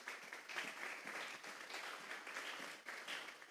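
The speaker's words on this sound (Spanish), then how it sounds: "Vamos a darle un fuerte aplauso pues al Señor." A church congregation applauds during a service, producing a continuous wash of clapping that sounds soft and somewhat distant, with no voices over it.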